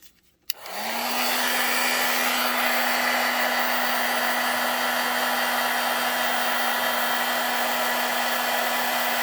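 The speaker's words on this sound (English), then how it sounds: "I'm going to switch to my embossing gun." An embossing heat gun switches on with a click and settles into a steady, loud blowing whir with a fixed motor hum, running without pause while setting Foundry wax on leather.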